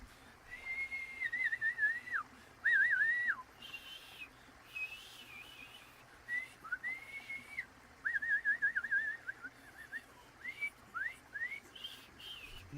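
Several melodic whistles come one after another, short warbling phrases rising and falling, fairly close over a quiet background with gaps between them.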